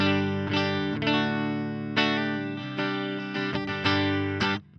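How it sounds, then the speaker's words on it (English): Clean electric guitar played through HX Stomp amp models with no overdrive, bright chords strummed and let ring in a loose rhythm, with chorus-like shimmer and a short fade at the end. "let's see what the amps sound like without the overdrives."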